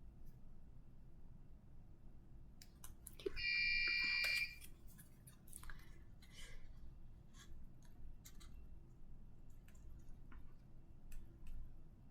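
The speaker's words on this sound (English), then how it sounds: "That's an ominous beep." A short electronic beep with steady high tones sounds once for about a second, standing out over faint background rustling and light clicks.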